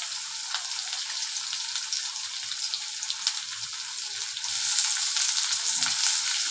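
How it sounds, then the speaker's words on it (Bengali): Onion hits hot oil with garlic already browned in it, sending up a steady loud sizzle that swells further partway through and keeps going without any talk. "এবার আমি পেঁয়াজটা দিয়ে দিচ্ছি।"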